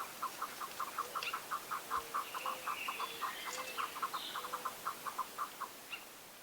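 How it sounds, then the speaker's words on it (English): Chukars, chicken-like birds of arid slopes, cluck in a dry rocky canyon in mid-May, a long rhythmic series of soft, evenly spaced clucks at moderate distance in otherwise quiet surroundings. "I camp in a dry, rocky canyon and wake up to the gentle clucking of the chukars, a chicken-like bird of rough,"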